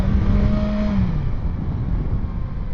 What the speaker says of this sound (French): le moteur, vraiment, il coupe